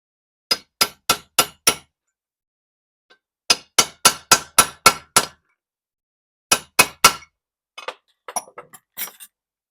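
Hammer blows drive a part into a Ford 9-inch differential case: sharp metallic strikes in quick bursts of four to six, pausing between sets, close and clear with no talking.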